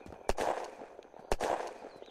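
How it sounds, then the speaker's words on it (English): Two sharp gunshots ring out about a second apart in the zombie survival video game Unturned, each followed by a brief echoing tail, with faint game ambience between. "those are gunshots"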